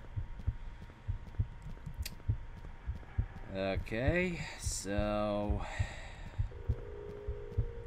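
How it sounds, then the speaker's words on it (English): A slow, thudding heartbeat pulses rhythmically through a horror video game, Illusion: Ghost Killer, low and steady beneath a hum, while a person talks briefly over it. "what's with the heartbeat?"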